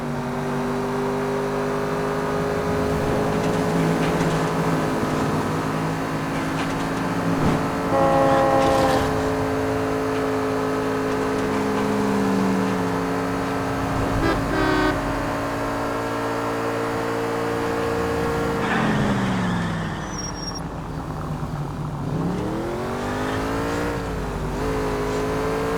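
A car in the video game L.A. Noire drives with a steady engine drone that climbs and falls with the revs over a long stretch, with brief horn-like tones and a sweeping change in pitch near the end, with no talking.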